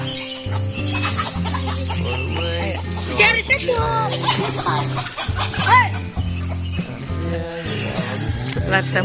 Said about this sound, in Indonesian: Lihat semua ayam